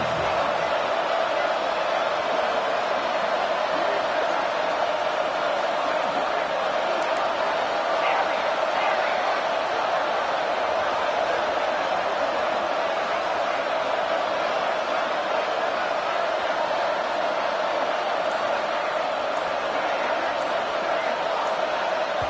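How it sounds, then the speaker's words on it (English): A loud, roaring stadium crowd at a college football game involving Texas, with steady, dense noise continuing throughout and no distinct breaks. "with this place rocking, the crowd forces a false start"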